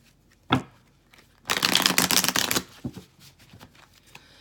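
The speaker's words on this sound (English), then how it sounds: "Shuffle those cards." A brisk riffle shuffle of tarot cards, a dense papery burst lasting about a second, framed by a few taps and card handling, up close.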